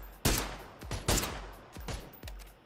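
Gunfire in the battle royale game PUBG Battlegrounds: four loud, sharp shots spaced irregularly about half a second apart, each with a short ringing tail, with no talking.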